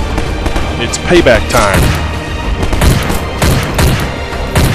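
Rapid gunfire and booming shots from a Garry's Mod game firefight, bursts crackling close and loud throughout, with a voice talking over the shooting.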